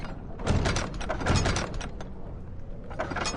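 A door in a horror video game rattles and clunks mechanically as it is tried, with several knocks and latch-like jolts at moderate loudness against a dim ambient background.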